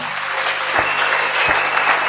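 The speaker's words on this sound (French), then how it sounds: "Applaudissons fort." Congregation applauding during a church service, a steady loud wash of clapping from a full room, close and continuous with no voices over it.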